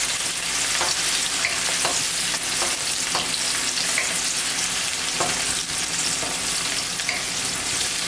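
Onion browning in overly hot oil for a cabbage and beef stew, a steady loud sizzle with scattered crackles and pops running the whole time, no voices.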